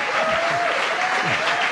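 Studio audience applause on a French comedy show, a steady dense wash of clapping heard at an even level across the short stretch, with a faint tonal hum beneath it.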